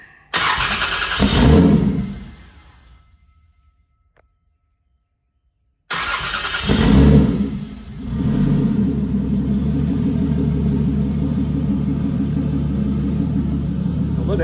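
A Toyota 2JZ engine managed by an ECUMaster EMU Black cranks and catches on a cold morning, then dies to silence. A second start brings it to life with a rev flare before it settles into a steady, loud, close idle rumble.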